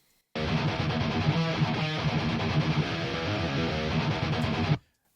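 Several heavily distorted electric guitars play together in a groove metal mix, a dense, sustained wall of sound for about four seconds, then cut off abruptly.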